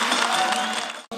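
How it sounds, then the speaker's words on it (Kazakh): Audience applause at an event introducing poets, a dense wash of clapping from a crowd that cuts off abruptly near the end. "Шапалақ қошемет кәнеге."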